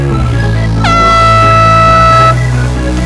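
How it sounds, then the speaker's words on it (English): Very loud air horn blasting once for over a second, a sharp bright tone starting abruptly and cutting off, over a steady low rumble outdoors at a capture-the-flag game field. "I had a super loud air horn you could hear from across the map"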